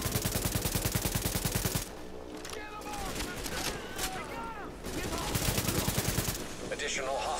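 Rapid automatic gunfire from a weapon in The Division, fired at an enemy in Times Square. Two bursts of steady rattling shots, with a quieter stretch of game sound between them and a voice talking.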